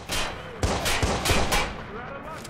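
Gunfire aimed at the player in the Watch Dogs video game: several sharp, loud shots crack out in a quick irregular burst over steady game noise, with a faint voice underneath.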